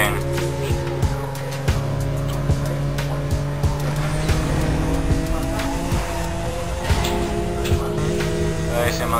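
A McLaren races in the Need for Speed Most Wanted video game, its engine a steady loud drone with rising gear-change tones and occasional tyre squeal, running continuously with faint voice underneath.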